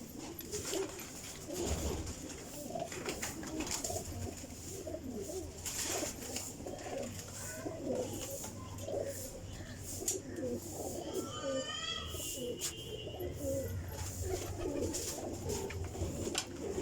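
Breeder female pigeons of the Teddy and Bateri types coo steadily and fairly close, layered with other bird calls and brief chirps throughout.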